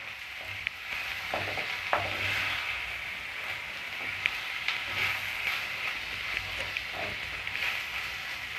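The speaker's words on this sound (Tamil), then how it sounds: "கிளறி விட்டுப்போம்" Chopped tomatoes with ginger garlic paste frying in a pan for fish kulambu, a soft continuous sizzle broken by occasional spoon clicks and stirring scrapes, quiet and without talking.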